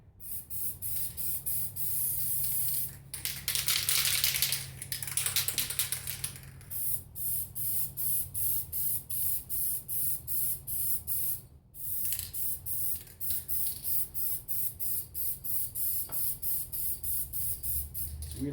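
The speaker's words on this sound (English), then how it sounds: "I'm going to start spraying this shit." An aerosol can sprays in a long hiss, then in a steady run of short rhythmic bursts, close and fairly loud, during a light bar install.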